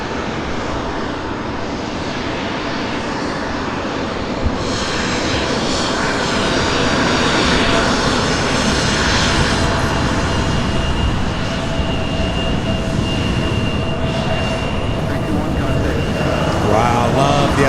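Airliner taking off from runway 35 right at Louisville airport, heard up close from beside a fence near the taxiway, a loud sustained jet engine roar that swells and holds steady as it powers down the runway.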